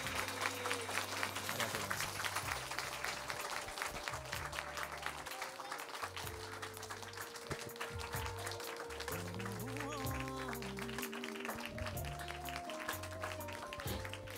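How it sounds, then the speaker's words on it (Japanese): Applause from a live studio audience seeing off a singer at Tokyo Tower, sustained clapping running under background music and a host's speaking voice throughout. "大きな拍手お見送りください"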